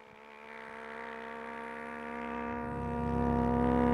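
A comedy performer's voice imitates a car braking suddenly, holding one long, buzzing, screech-like tone that swells steadily louder over a few seconds, with no talking.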